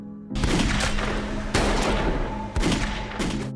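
Gunfire in a film scene, a series of loud, sharp gunshot bursts with booming low ends, fired in quick succession and separated by short gaps.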